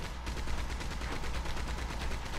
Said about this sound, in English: There was somebody on the machine gun.